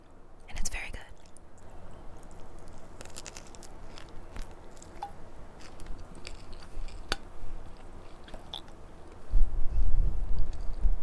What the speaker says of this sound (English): I wonder how much of my chewing it's picking up